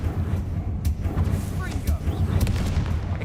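Confringo fire blast spell in the video game Hogwarts Legacy, a loud, dense burst of booming, crackling blasts that fills the whole moment with heavy low rumble.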